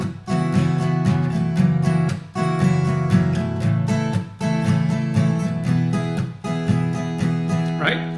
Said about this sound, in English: I'm going to play one of the strumming patterns in a straight feel